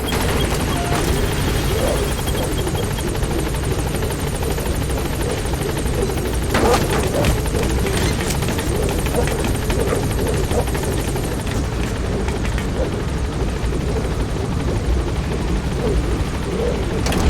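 A helicopter drones steadily in Metal Gear Solid 5, its rotor chop a constant loud rumble throughout, with faint scattered pops of distant gunfire mixed in and no talk.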